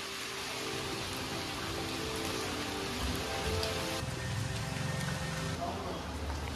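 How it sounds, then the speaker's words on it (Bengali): Heavy rain pours down all day in a downpour, a dense, even hiss of drops on surfaces that stays loud and constant throughout. "আজকে সারাদিন বৃষ্টি হচ্ছে সকাল থেকে।"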